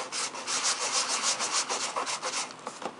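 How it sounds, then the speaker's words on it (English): Hand sanding of a wooden holiday craft piece, a close continuous rhythmic rubbing scratch with quick back-and-forth strokes, loud and alone. "So we're going to go ahead and just sand it."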